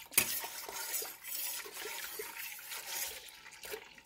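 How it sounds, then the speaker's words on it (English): A gallon of milk is poured into a pot to make cheese curds, producing a close, gurgling and splashing stream that swells and eases in waves, with no talking. "Then I'm going to take the milk and pour it on in."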